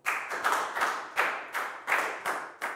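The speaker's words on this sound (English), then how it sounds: "And a big round of applause for everybody doing a great job." In a classroom, a small group of hands claps in a loose, slightly uneven rhythm, several close claps in quick succession with no voices over them.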